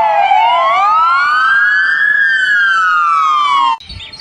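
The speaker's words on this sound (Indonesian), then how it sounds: "This is American police car." Toy American police car siren wailing loudly and close, a single long rising then falling electronic sweep that cuts off abruptly near the end.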